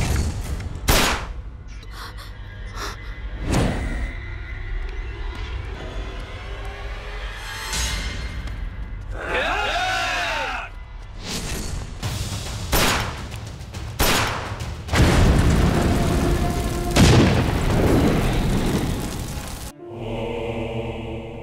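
Gunshots fired in a dramatic film scene ring out as several sharp, loud cracks spread through the clip, separated by irregular gaps amid background sounds and music-like tones.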